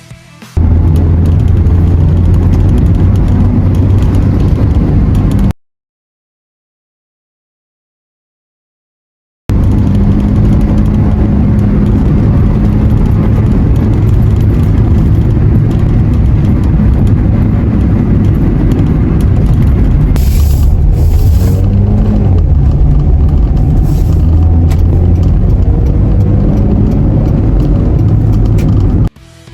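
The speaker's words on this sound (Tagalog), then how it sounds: "maririnig nyo yung unti-unting pag-akyat ng RPM at yung tunog ng makinang humahatak." A Hyundai Reina engine drones loudly and steadily, its pitch slowly climbing as revs rise, with a short gap of silence partway through.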